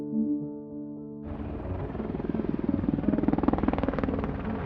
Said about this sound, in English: 2 Black Hawk helicopters, equipped with secret stealth technology, take off from Jalalabad airfield